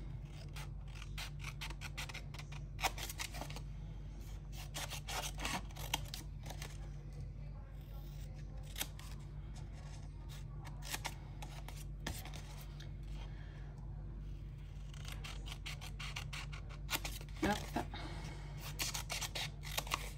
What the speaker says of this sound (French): Ces petits ciseaux coupent très bien.